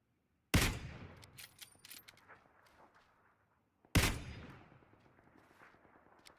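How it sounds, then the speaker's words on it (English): Gunfire in a shooter video game comes as two sharp, loud bursts a few seconds apart, each followed by a scatter of trailing shots and rattles that fade out. "I'm getting shot from everywhere, actually."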